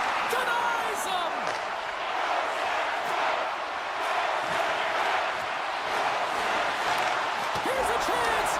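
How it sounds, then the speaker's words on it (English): Crowd noise in a hockey video game, a broad, steady roar of cheering that holds throughout at moderate level, with a commentator's voice talking over it. "you can feel the energy in this crowd"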